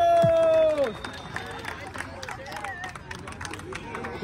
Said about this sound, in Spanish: Un fuerte aplauso, muchachos.